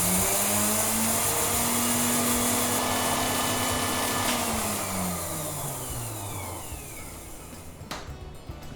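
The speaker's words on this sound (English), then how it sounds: "So first we will grind the normal roast." An electric grinder whirs loudly as it grinds roasted cumin seeds, a steady high motor whine up close that slowly drops in pitch as it winds down near the end, with a couple of sharp clicks.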